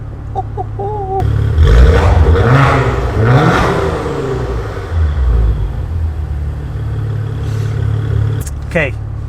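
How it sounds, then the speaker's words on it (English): A 2019 Maserati Levante S SUV's Ferrari engine revs up loudly and roars, surging and easing over several seconds with a deep rumbling exhaust, close by. "That Ferrari motor, the exhaust, the sound, that smile."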